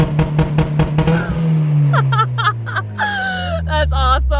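A heavily modified Ford EcoBoost car launches at full throttle, its engine revving hard and rising in pitch, with people shouting and talking excitedly over the loud engine.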